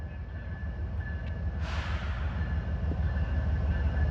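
A freight train led by GE Evolution locomotives, a single Tier 4 unit with a DC Evolution as mid-train helper, rumbles past as a steady low roar with a brief hiss partway through, no voices.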